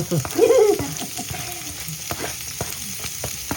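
Garlic frying to golden brown in a pan for dinuguan, a close, steady sizzle with a brief louder burst of stirring near the start.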